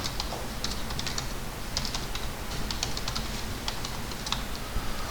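A computer keyboard clatters with rapid, close key presses in irregular bursts over a steady background hiss while commands are entered in CAD software.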